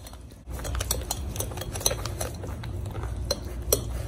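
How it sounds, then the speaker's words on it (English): Cake batter for an orange cake being mixed in a bowl, a steady run of clinking and scraping utensil strokes against the dish, close and fairly loud with no talking. "we're gonna mix until all of the ingredients are together"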